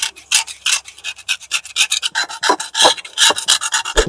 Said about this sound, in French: Donc moi vous voyez, je vais le gratter.